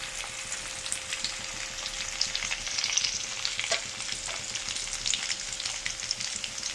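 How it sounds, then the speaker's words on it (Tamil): Garlic frying in hot oil in a home kitchen, a steady close hiss and sizzle crackling continuously with occasional stirring scrapes, no voices. "பூண்டு நல்லா பொரியட்டும், அப்போ தான் வாசம் சூப்பராக இருக்கும்."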